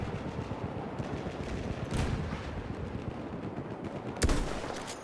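Battlefield 1 combat fills the space with continuous gunfire bursts and rumbling explosions, including a heavy blast partway through and a sharp, loud one near the end, with no voices over the din.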